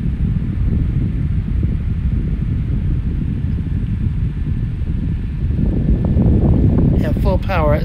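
A 5.5-inch blue Opolar USB fan running at 6,000 RPM, giving a steady, close, rumbling whoosh of airflow that swells slightly toward the end, with a voice speaking briefly over it.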